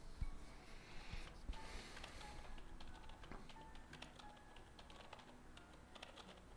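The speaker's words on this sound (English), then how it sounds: "she's busy typing things up" Quiet, continuous keyboard typing in the hospital-management game Project Hospital, rapid irregular clicks of keys running steadily throughout alongside soft background game tones.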